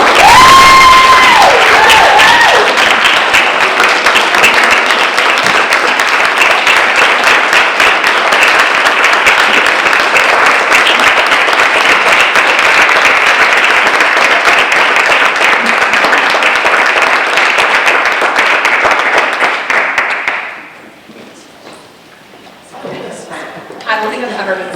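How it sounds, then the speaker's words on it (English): A school committee meeting audience gives a loud, sustained round of applause with some cheering that runs for about twenty seconds, then stops abruptly before a nearby voice begins talking. "I would ask for a round of applause for Laura"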